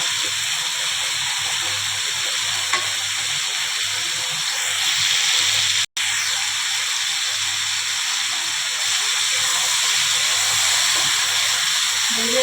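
Mixed vegetables coated with salt, turmeric and spices sizzle in a pan while being stirred, a steady, loud hissing fry that continues almost unbroken, with one brief cut of silence midway.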